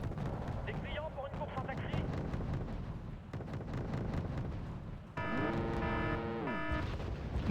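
A small cannon in a video game fires a long string of sharp, rapid blasts close by, with a rising and falling mechanical whine cutting in near the end.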